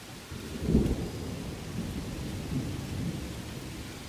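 An Indiana thunderstorm brings low, rumbling thunder that swells and fades over steady rainfall, with a stronger roll early and a softer one later.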